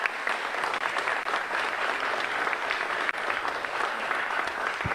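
Audience applause welcoming an engineer at a highway section inauguration in Génova, Quetzaltenango, Guatemala: dense, steady clapping from a sizeable crowd throughout, moderately loud with no break.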